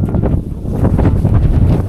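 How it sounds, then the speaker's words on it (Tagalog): Strong wind buffets the microphone in loud, continuous low rumbling gusts, with no voices, at a tilapia fishing spot. "Grabe, lakas na ng hangin."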